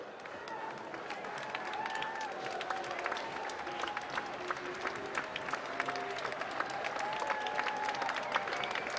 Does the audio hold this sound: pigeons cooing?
no